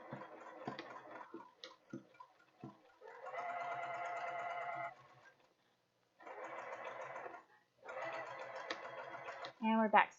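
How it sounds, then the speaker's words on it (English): A home sewing machine back stitches the seams of a fabric knitting project bag in three whirring bursts separated by pauses, close and clear, with a few ticks and handling clicks between runs. "we're back stitching at the ends of each area."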